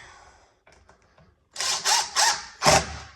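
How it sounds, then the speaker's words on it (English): A power drill whirs in three short bursts as it drives a screw into a repaired stripped wood screw hole, following a few soft clicks and handling noises, close and fairly loud. "drill that in pretty easy."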